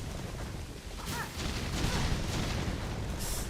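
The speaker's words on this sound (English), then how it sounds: "There's a lot of explosions." Repeated explosions in the game Hollow Knight Silksong, a dense rumbling barrage of booms and bursts that builds louder in the second half and continues steadily throughout.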